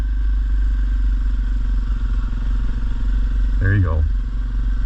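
A dirt bike engine runs steadily and close by during a riding lesson, a loud, constant low drone, while a voice briefly speaks near the end.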